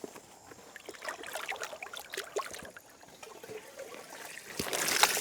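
Water pours and trickles into a compost heap, with soft irregular splashes and dribbles that are close but quiet. The flow swells into a steadier rush toward the end.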